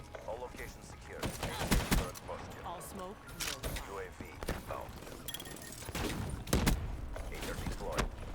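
Gunfire crackles in a Black Ops 3 multiplayer match, bursts of rapid shots and scattered single cracks popping at varying distances, mixed with game effects while a player talks over the action.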